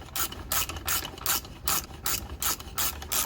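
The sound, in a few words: bolts being put in on a Cummins transmission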